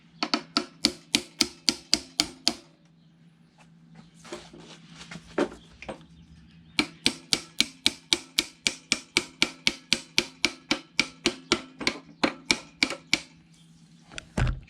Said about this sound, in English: now all I got to do is tap the axle out